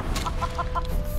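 A chicken in the video game Divinity: Original Sin 2 gives four quick, evenly spaced clucks, loud and close over a low background hum.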